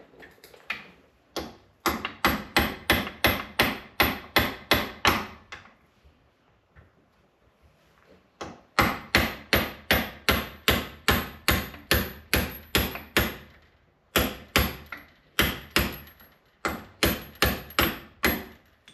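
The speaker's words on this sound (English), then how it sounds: "Carefully smack this bolt out without screwing up any threads." A hammer drives a punch against a bolt seized in a Toyota Supra steering knuckle, giving loud, evenly spaced metallic blows in rapid bursts of about a dozen strikes, separated by short pauses, close up with no talk.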